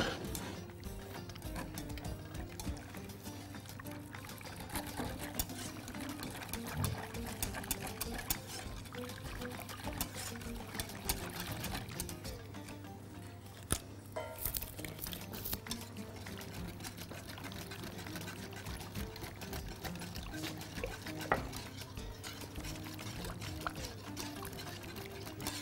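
Pasta sauce is stirred in a pan while cream is poured in, a quiet, continuous liquid pouring and sloshing with soft scrapes, close by, with no talking.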